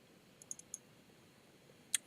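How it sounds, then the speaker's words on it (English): Sharp mouse clicks at a computer, a few quick close taps in a small cluster and then one more after a pause, over a quiet room. "So if you double click on the barcode symbol"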